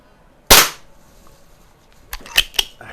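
A Predom Lucznik air pistol fires a single sharp, close crack, followed by faint clicks and small knocks of handling.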